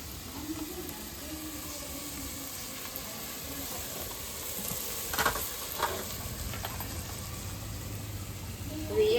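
Chili hits hot oil for a Kathiawadi masala veg pulao, giving a continuous sizzling hiss with occasional clinks and stirring scrapes; steady frying runs throughout at close range without speech.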